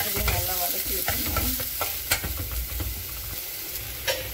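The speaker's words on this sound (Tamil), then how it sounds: "இதோட பச்சை மிளகாய் போட்டு நல்லா வதக்கிடுங்க. இது கூட கொஞ்சமாக வெங்காயம் சேர்த்துக்கோங்க." Onion and green chilies sauté in a pan for tomato gotsu, a loud continuous sizzle and fry broken by repeated stirring scrapes and a few sharp clinks of the spoon.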